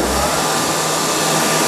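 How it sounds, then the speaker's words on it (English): Shop vacuum cleaning down the spoilboard of a Holz-Her Dynestic CNC router, a loud steady whooshing roar that kicks in at once and holds constant throughout, no talking. "we're going to vacuum down our machine. Now this is going to get a little bit loud,"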